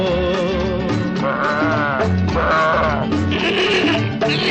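Repeated wavering bleats over a steady musical backing, loud and continuous throughout, like a goat calling in a song.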